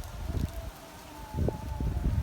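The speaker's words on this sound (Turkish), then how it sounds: "Burada rüzgar esiyor." Wind blowing outdoors near a veterinary clinic, with a tree swaying, comes through as gusty, rumbling buffeting on the microphone in two stronger bursts.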